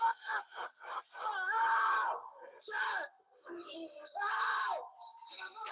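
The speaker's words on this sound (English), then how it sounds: "Why does he keep screaming, man?" A man screams and wails in pain after being shot during a police encounter, with long, strained cries rising and falling over several seconds, close and loud with agitated voices around.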